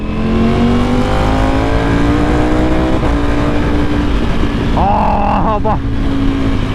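A Ducati motorcycle rides through Bangalore city streets in street mode, its engine a loud, close, continuous drone that rises and falls in pitch with the throttle while a rider talks over it.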